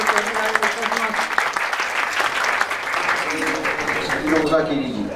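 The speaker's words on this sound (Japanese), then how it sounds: "拍手をちょっとお願いいたします" Guests at a commemoration ceremony for Ozaki Yukio's 160th birth anniversary applaud steadily, with a voice speaking over the clapping through most of it.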